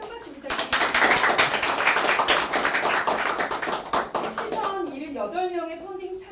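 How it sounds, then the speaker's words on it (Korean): An audience at a political party's thank-you gathering claps in a burst of close, crisp applause that tapers off, followed by a voice speaking as the clapping fades. "우리 강성만님께 또 큰 박수 부탁드립니다"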